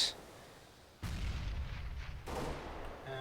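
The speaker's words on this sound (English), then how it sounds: "Throw in a flashbang" A flashbang grenade bursts in Counter-Strike: Global Offensive, a sudden loud bang followed by a rumbling tail, with a second impact shortly after, no voices.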